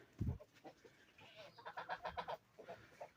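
Chickens cluck and chatter close by in a quiet yard, a short burst of hen calls following one low thump.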